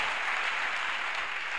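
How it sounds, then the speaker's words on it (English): Church congregation at a Ugandan miracle ministries service clapping their hands, a dense, steady wash of many hands applauding together at close range with no gaps. "Clap your hands for Jesus Christ."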